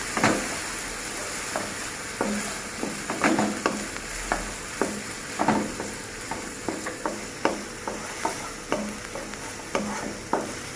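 A spatula stirs two chopped large onions into a beef filling in a sizzling pan for a beef roll, making a steady rhythm of close, distinct scrapes about once a second over a constant low frying hiss.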